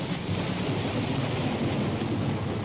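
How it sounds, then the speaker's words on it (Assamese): Thunderstorm with heavy, steady rain through the night, a dense continuous rumbling wash of rainfall and low thunder, loud and unbroken, with no voices. "ধুমুহা গাজনি চিকমিক বিজুলীৰে গোটেই নিশা ধাৰাসাৰ বৰষুণ"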